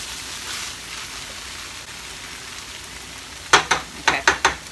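Tofu scramble fries in a pan with a steady, soft sizzle, then a quick series of five sharp scraping or tapping strokes near the end, with no talking.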